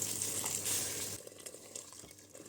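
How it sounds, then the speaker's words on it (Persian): Boiling water from a kettle is poured into a pot of turnip soup with rice, giving a soft hissing, sizzling rush for about a second before it fades to quieter bubbling and clinks. "حالا من آب جوش کتری رو اضافه میکنم"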